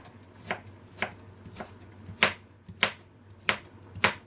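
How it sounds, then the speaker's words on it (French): A knife chops half an onion into cubes on a board, with seven or eight sharp, evenly spaced cuts landing about every half second, close and moderately quiet. "couper en cubes."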